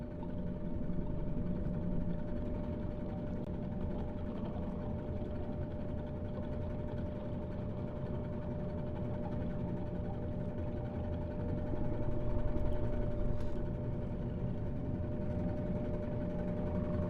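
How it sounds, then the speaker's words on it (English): A washing machine grinds and hums with a low, steady mechanical drone, a faint whine running through it and a slight swell in loudness near the end, with no talking. "I don't like the horrible noises coming from the washing machine."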